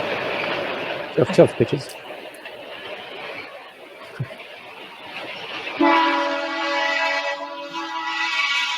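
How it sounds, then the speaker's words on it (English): A train rolls past, its rumble and rattle building before a sustained horn blast rises near the end, with voices talking over it. "Train."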